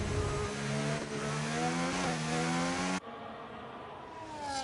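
A race car engine in a racing video game at Abu Dhabi, revving while warming its tyres, with a sustained whining drone that shifts pitch in steps and cuts abruptly to a quieter, thinner engine tone partway through.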